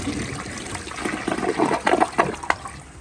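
A 2007 American Standard Cadet 3 toilet flushes with a loud rushing swirl of water and gurgling, bubbling siphon bursts, heard up close.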